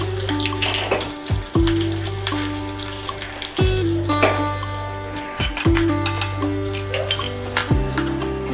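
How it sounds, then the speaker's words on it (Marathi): Mustard seeds, red chillies and curry leaves sizzling in hot oil for a tempering, a steady close crackle and spatter with sharp pops and occasional clinks of a utensil, no voices. "मोहरी छान फुलल्यानंतर आपल्याला 2 लाल मिरच्या टाकायच्या आहेत."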